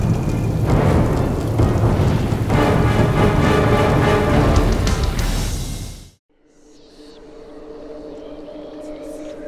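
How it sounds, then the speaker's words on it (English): A storm builds with heavy rushing rain and rumbling thunder, loud and dense for several seconds before cutting abruptly to a quieter, softer patter. "There's a storm coming."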